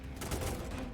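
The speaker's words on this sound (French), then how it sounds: "il tire 3 fois et recharge" A burst of enemy gunfire in the game F.I.S.T.: Forged In Shadow Torch, dense rapid overlapping shots packed into under a second, loud and close.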